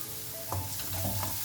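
Chopped ginger and garlic sauté in a hot pan, giving a steady soft sizzle with a few quick scrapes of stirring.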